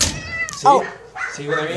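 An angry cat at an animal shelter lets out a few sharp, close meows and yowls in a short burst, mixed with people talking nearby.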